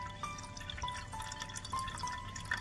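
Thin water trickles and drips into a bowl of yogurt for a homemade doi lassi, faint and close, in short uneven bursts with no speech.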